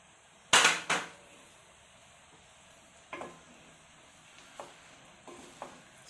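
Mushroom pieces hit a hot masala paste with a sharp, loud sizzling burst, followed by quieter intermittent sizzles and scrapes as they are stirred in; no voices.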